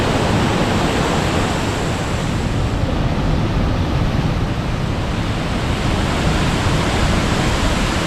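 Jaein Falls on the Hantan River, swollen after heavy rain, pours in a dense, unbroken roar of falling water that fills the whole stretch evenly and loudly, with no voices.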